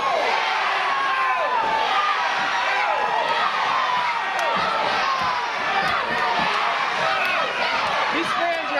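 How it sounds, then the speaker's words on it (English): A wrestling crowd at a 2009 independent show fills the arena with loud, overlapping shouts and chants, one side answering the other in a steady back-and-forth roar. "These fans are having an argument over yeah and no."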